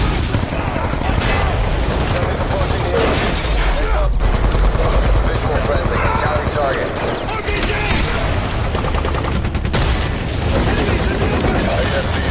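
Loud, dense gunfire fills a Call of Duty Black Ops 2 video game trailer: sustained automatic bursts and heavy booms over rumbling explosions and mechanical clatter, continuous throughout and mixed with a brief voice line.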